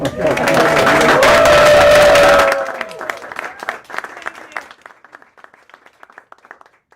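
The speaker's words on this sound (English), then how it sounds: "how about a round of applause for her?" A round of applause from a gathered crowd for a conservator at a Robert E. Lee statue time capsule opening in Richmond, Virginia: dense loud clapping that stops abruptly, leaving scattered claps fading away.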